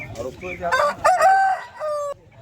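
A rooster crows at a Sunday poultry market in Vijayawada, one clear drawn-out cock-a-doodle-doo rising and breaking off, with faint clucking and market noise behind it.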